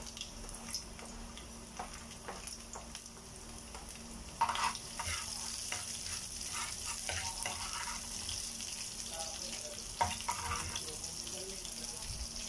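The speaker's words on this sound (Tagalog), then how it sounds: "Ito, nagpapainit na po ako ng mantika. Bawang." Garlic sizzles in hot cooking oil in a pan, a steady crackling fry punctuated by clinks and scrapes of stirring, with louder bursts as more is added.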